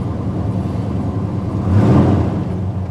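A 1985 Chevy C30 truck engine idles with a steady low rumble, swelling briefly louder partway through before settling back, heard close and alone.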